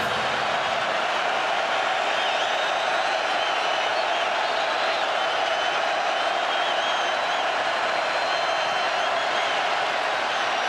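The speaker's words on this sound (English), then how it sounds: "they're on their feet here in the Dome. In front of the largest crowd of the season" Large football crowd in the Syracuse Dome during an NC State vs. Syracuse game, a continuous dense roar of cheering at steady loudness throughout.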